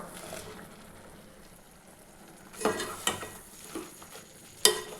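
Low steady sizzling of capsicum in a frying pan, with a few scraping knocks of a spoon stirring the food toward the end.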